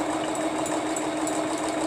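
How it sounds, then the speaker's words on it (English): Sewing machine running steadily while stitching appliqué, a continuous close mechanical whir and rapid buzz with no pauses or voices. "we're going to let the sewing machine do its thing"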